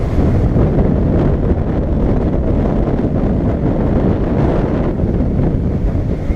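Strong wind of about 25 knots blows across a boat on a Maine to Virginia passage. It makes a loud, constant rumbling buffet against the microphone, with water and waves underneath and no voices.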